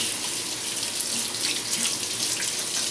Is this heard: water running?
yes